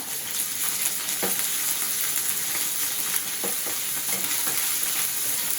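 Onion, garlic and ginger fry in a hot pan with a steady, close sizzle and a few soft stirring knocks, no voices over it.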